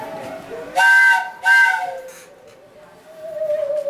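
A shrill train whistle blows twice in quick succession, each a short steady tone, followed by a fainter drawn-out wail in the background.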